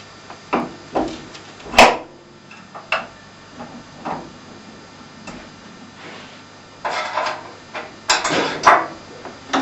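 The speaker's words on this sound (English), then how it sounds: "I replace that with the sanding disc." Metal parts of a Shopsmith multipurpose woodworking machine clank and knock as a sanding disc is fitted in place of the saw blade, a scattered run of sharp taps and clunks close by in a quiet workshop.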